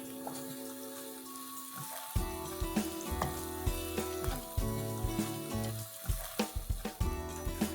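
Onion sizzles in a pan after coriander powder is added, a steady frying hiss close by, with stirring knocks and scrapes over a background of music.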